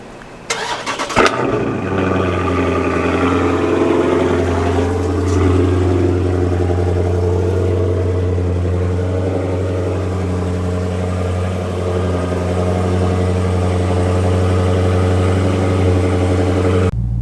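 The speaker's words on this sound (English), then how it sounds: "Alright, so that was a remote start of the car." Dodge Charger Daytona 392 V8 fired up by remote start: a sharp cranking catch and revving flare, then a deep, steady idle rumble holding close and loud throughout.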